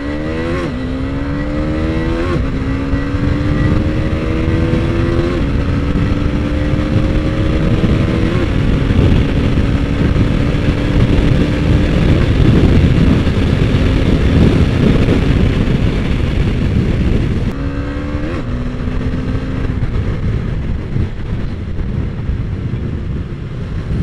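A Husqvarna Svartpilen 250 motorcycle engine drones while riding, loud and close, pitch climbing through each gear then dropping at shifts, with steady wind rush underneath and no talk.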